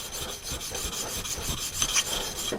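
A spokeshave blade sharpened on a diamond plate, close and quiet, a rapid run of gritty rasping strokes back and forth with no voices.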